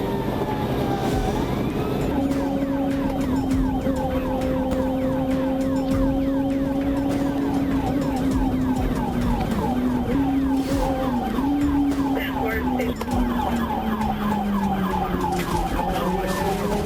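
A police siren wails continuously and loudly through a freeway pursuit of a speeding sport bike with no plates, its pitch sweeping and warbling steadily over rushing traffic noise, with no talk.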